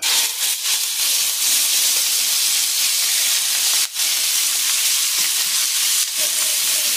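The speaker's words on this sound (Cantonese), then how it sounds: "首先咧都係燒熱個鑊，俾啲豬肉落去" Loud, steady sizzling of pork frying in a hot wok fills the clip, with a few brief clatters of stirring.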